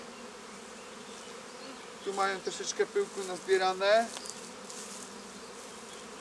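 Buzzing honeybees swarm around an opened hive of a queenless colony being united with another. The dense, continuous drone runs beneath a voice that speaks briefly in the middle.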